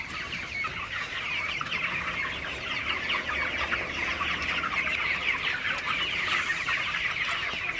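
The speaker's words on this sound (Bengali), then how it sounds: "খুবই সুন্দরভাবে ব্রয়লার মুরগি পানি খায়" Broiler chickens drinking from water containers make a dense, continuous chorus of clucking that stays steady and close for the whole stretch, with no talking.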